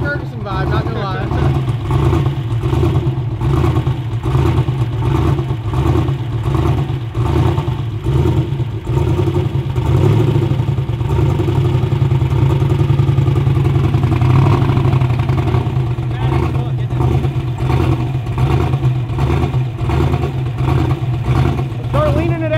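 A diesel-sounding LS engine runs loud and close, rumbling with a steady, chugging, tractor-like pulse that swells slightly in the middle before settling back.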